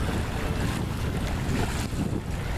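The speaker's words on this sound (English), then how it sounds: "Peaceful sail now, making a little over 5 knots." A sailboat moving at a little over five knots on a close reach, with steady loud wind rushing over the microphone and water washing along the hull, continuous with no voices.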